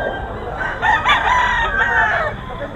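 A tall rooster of a White Choco Biboy line crows at a gamefowl farm, a single drawn-out call rising over steady background noise with other fowl and faint voices around.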